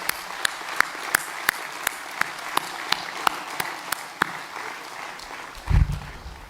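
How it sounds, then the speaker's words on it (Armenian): A crowd at a polytechnic graduation ceremony applauds graduates in a steady wash of clapping, punctuated by sharp evenly spaced claps, before a brief low thump near the end. "Թույլ տվեք առաջարկել եւ բարձր ծափերով շնորհավորել մեր շրջանավարտներին։"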